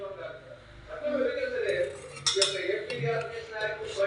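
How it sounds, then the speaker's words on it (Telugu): A clean spoon stirs Bru coffee in a cup, with light clinks and scraping of metal against the cup heard close while someone talks over it. "వేసాక ఒక్కసారి శుభ్రమైన స్పూన్తో కలిపేసుకుంటే చక్కగా మిక్స్ అయిపోతుంది"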